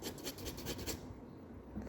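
A sharp pencil shades on paper in a quick burst of rhythmic scratching strokes, close and quiet, then softens to a faint rubbing hiss.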